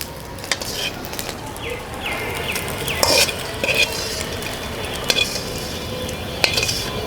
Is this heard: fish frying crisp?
yes